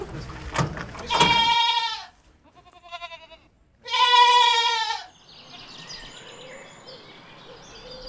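Mini goats bleat in two loud, drawn-out calls separated by a fainter bleat, close by, with rustling farmyard noise in the quiet gaps and no talk.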